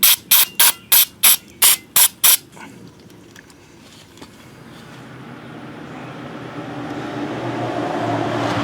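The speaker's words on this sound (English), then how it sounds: "I'm just going to spritz this out a little bit." Seven short, sharp bursts of spray cleaner fired into a car starter motor, evenly spaced in quick succession, followed by a quiet hissing, rising wash of background noise.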